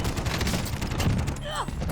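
Rapid video game gunfire from a high-powered rifle crackles in dense bursts across the whole stretch, mixed with busy game noise and a few sweeping effects near the end.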